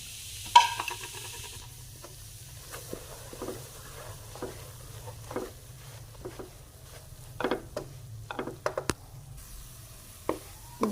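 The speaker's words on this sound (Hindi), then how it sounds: "बेसन को हम हल्की आंच पे 3 से 4 मिनट तक भूनेंगे।" Gram flour being stirred and roasted in hot ghee in a wok over low heat, with a quiet continuous sizzle broken by scattered scraping taps of the spoon against the pan.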